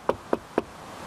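Three evenly spaced knocks on a Mazda MX5 Mk2 car door fitted with sound deadening mat, each a dull, damped thud close by, with no talk.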